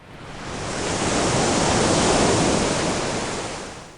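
Waves wash steadily onto the low-gradient, shallow sandy beach at Digha Sankarpur, West Bengal. The surf roar is broad and continuous, swelling slightly in the middle and easing off, with no voices.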